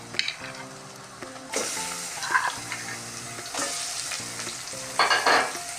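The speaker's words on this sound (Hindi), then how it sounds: "गोश्त डाल के भी अभी हमने इसे 1-2 मिनट तक भूनेंगे।" Beef pieces frying in a pan with onions gone translucent, a steady close sizzle with bursts of stirring and scraping, louder flare-ups as the meat is tossed, no voices.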